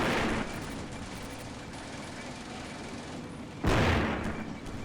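An infantry squad's gunfire in the wartime strategy game Combat Mission Beyond Overlord, a steady rattle of distant shots under a noisy wash, broken by a louder blast near the end.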